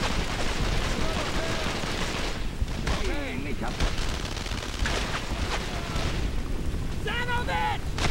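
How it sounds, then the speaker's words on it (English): Machine gun bursts and explosions roar almost without pause in a Medal of Honor battle scene, dense and loud, with soldiers shouting commands over the gunfire. "Machine gun! I want heavy fire on that MG!"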